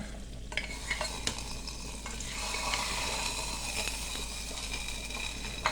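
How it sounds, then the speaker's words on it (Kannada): Onions sizzle and fry in hot oil as a tempering for a Tulu-style clam and rice ball dish, with steady close crackling and a few stirring scrapes throughout, no talking. "ನೋಡಿ ಒಗ್ಗರಣೆ ಹಾಕ್ಕೊಳ್ತಿದ್ದೇನೆ"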